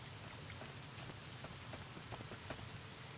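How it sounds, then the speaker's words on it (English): Rain in the video game Fallout New Vegas, a steady dense hiss of falling rain with scattered droplet patter, even and continuous without voices. "Well, it's already raining"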